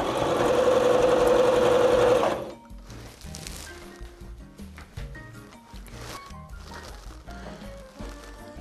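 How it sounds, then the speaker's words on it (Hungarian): A sewing machine runs loud and steady for about two seconds, stitching three layers of fabric along a folded edge for a homemade face mask, then stops, leaving quieter handling sounds. "itt látható, hogy szépen a hajtás szélén varrunk"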